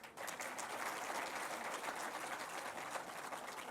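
A ceremony audience claps in steady, sustained applause that fills the whole stretch without pause.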